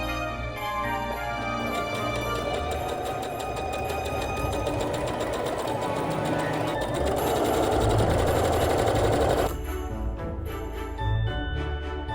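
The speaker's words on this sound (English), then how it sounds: "I'm pretty much just going to do a zigzag stitch all the way around the letters" A sewing machine runs a zigzag stitch around letters on a sweater, whirring in a fast, steady rhythm for about nine seconds before stopping, then a few lighter mechanical clicks follow.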